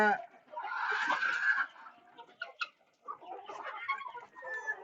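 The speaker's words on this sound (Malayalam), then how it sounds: "ബാക്കിയൊക്കെ നമ്മുടെ നാടൻ കോഴികളാണോ അതൊക്കെ നാടൻ കോഴികളുണ്ട്" Native country chickens cluck and squawk close by in bursts on a mixed farm in Kerala, mixed with voices talking nearby.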